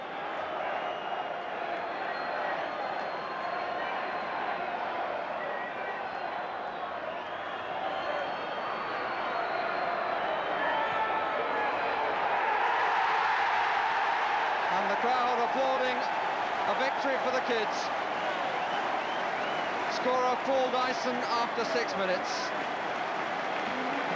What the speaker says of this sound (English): Coventry deserving the applause they've been given